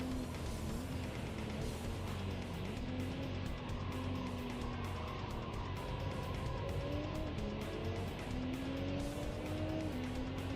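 Racing cars roar past in a racing video game, including a Honda NSX, with a loud continuous engine drone, rising and falling gear whines and faint tyre squeal, all close and sustained.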